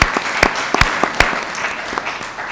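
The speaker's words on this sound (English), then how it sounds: "Bruce Green, that is, we gotta applaud this dude." A few people clapping at a school board meeting, sparse distinct hand claps scattered over a couple of seconds rather than full applause, close and fairly loud.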